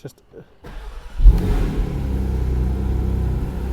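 A Porsche 718 Spyder RS engine cranks and catches with a low rumble, then settles into a steady idle close by after a brief quiet moment.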